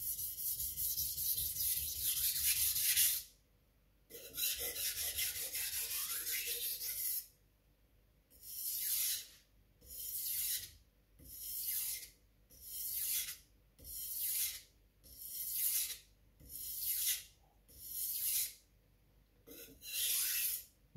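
A knife is drawn across a King Deluxe #800 whetstone: a long continuous scrape, a pause, then a regular series of about a dozen short, close rasping strokes separated by brief silences.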